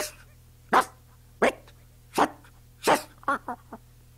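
A dog gives a series of short, sharp barks, five spaced evenly and then a few quicker, softer ones at the end, close and alone with no talk.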